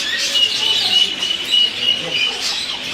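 A talking parrot in Elazığ, Turkey, known for saying about 20 words, makes close, loud chirps and squawking whistles in short repeated bursts.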